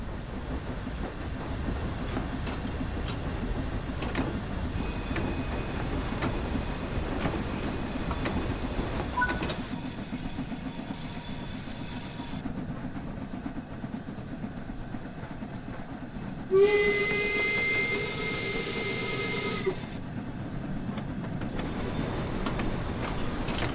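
A steam locomotive in Train Sim World 5 pulls away with a continuous rumbling rail roll and squealing wheels, a brief loud hissing burst midway, heard steadily without voices.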